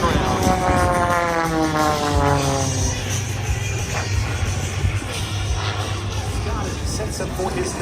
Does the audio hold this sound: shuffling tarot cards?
no